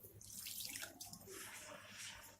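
Water poured from a container onto oiled couscous in a bowl, a continuous close splashing pour with slight gurgles and no talk.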